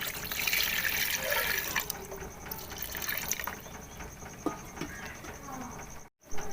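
Water poured from a glass into a cooking pot of beef pieces for stewing, a steady splashing pour with a bright hiss that tapers off, ending in a brief clatter.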